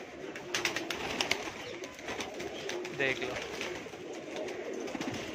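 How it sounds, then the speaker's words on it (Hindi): Breed pigeons coo in a home loft in Mumbai, soft repeated calls mixed with wing flutters and rustling, while a person speaks briefly nearby. "ये सब ब्रीड वाले कबूतर है मस्त।"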